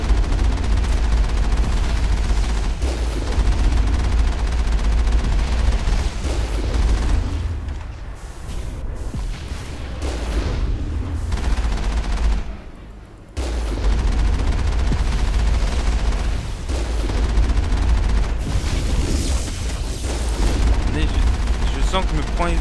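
Shells and gunfire crash through a Mass Effect battle during the Geth invasion. Loud, continuous bursts of fire with heavy impacts sit under someone talking in French, easing off briefly midway before picking back up.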